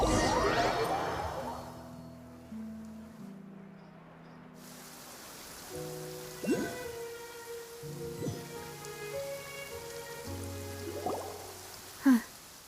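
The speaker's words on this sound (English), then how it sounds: "It's been raining non-stop for a few days now." Steady rain falling in a video game, a continuous hiss of drops on surfaces under a soft musical background, with a few louder splashes and knocks near the end.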